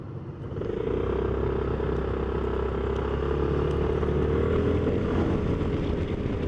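A Suzuki Burgman 400 scooter being ridden, with a steady engine drone and wind rush heard continuously from the rider's position.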